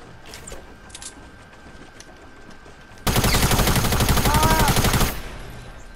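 Video-game gunfire bursts out as a loud, rapid automatic stream lasting about two seconds, cutting through quieter background ambience before trailing off.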